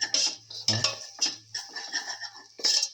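A metal spoon stirring salt into rice in a pot, giving bright clinks and scrapes of utensil against cookware in quick irregular bursts, with a voice speaking between them.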